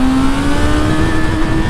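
A 2025 Honda CB1000 Hornet SP motorcycle engine revs loud and close, a sustained high-rpm wail held steadily with a harsh, buzzy edge.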